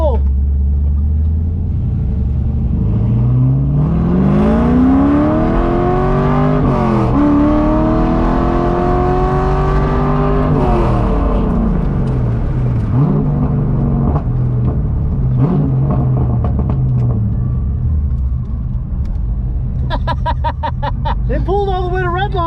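Corvette engine revving up toward red line during a pull at a drift event, rising harmonics climbing loudly over several seconds with a couple of gear shifts, then dropping back to idle, with crowd chatter and talk nearby.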